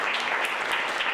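An audience applauds the young authors, aged 10 to 21, at a writing competition award in the Mittleres Erzgebirge, a short stretch of fairly quiet, even clapping from many hands.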